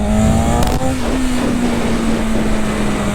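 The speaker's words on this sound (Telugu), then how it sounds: "వీలీ అటెంప్ట్, గుండె చేతిలోకి వస్తుంది వీలీ ట్రై చేస్తుంటే దీనికి ఉన్న పవర్తో" A Continental GT650 or S1000RR motorcycle engine holds a steady, loud rev during a wheelie attempt on a night ride, a sustained droning note with a brief sharp burst early on.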